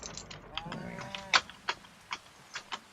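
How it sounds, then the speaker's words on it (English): Cattle in the Farming Simulator 2025 video game moo in several low, drawn-out calls, with scattered short clicks and knocks following at a moderate distance. "Cattle seem to be happy."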